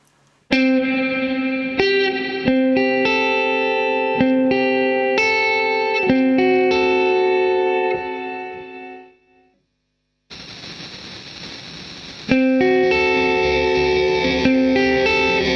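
An electric guitar through a Chase Bliss MOOD reverb pedal plays plucked notes and chords drenched in reverb, ringing tails sustaining, then a brief pause followed by a wash of shimmering, noisy reverb.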